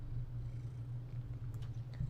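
A cat purrs very close beside a computer keyboard, a soft, steady low rumble that runs unbroken throughout.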